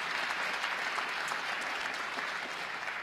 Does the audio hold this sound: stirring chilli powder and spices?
no